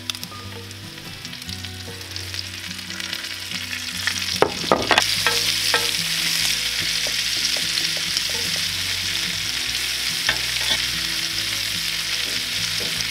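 Mushrooms and onions dumped onto a Weber Gourmet BBQ System griddle beside bacon, a close, loud sizzle that swells after they land, with scraping spatula clicks and steady crackle throughout.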